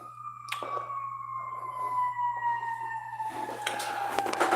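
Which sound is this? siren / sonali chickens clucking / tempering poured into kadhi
siren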